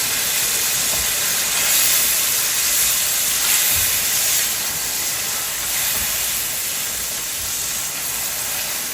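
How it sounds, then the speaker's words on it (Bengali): Meatballs cook in a sizzling spice paste in a pan, producing a loud, constant close-up hiss with faint bubbling and no talking. "মশলাটার ভেতরে এখন আমি দিয়ে দিব মিট বলগুলো"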